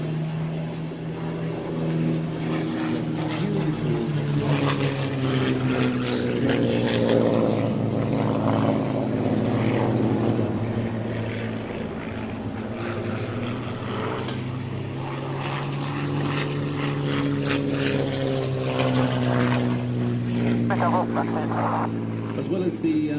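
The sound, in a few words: vintage propeller aircraft flying display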